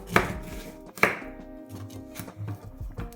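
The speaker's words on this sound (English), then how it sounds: "I like to just stab it a little bit, get those juices out." Two sharp knife stabs into a lime on a cutting board, each a crisp impact with a juicy squelch, followed by quieter soft kitchen handling sounds.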